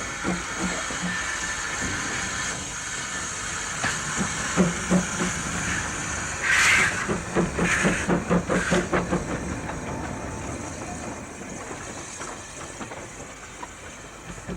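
Vale of Rheidol narrow-gauge steam train pulling out of Aberystwyth Station, steady hiss with rhythmic chuffing and wheel clatter building as it moves off, fairly close.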